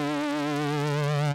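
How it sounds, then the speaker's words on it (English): A ramp wave from the Logic Pro X Retro Synth, a steady buzzy tone rich in harmonics with a gentle vibrato wobble, held alone for over a second before cutting off abruptly. "And we've got a ramp wave."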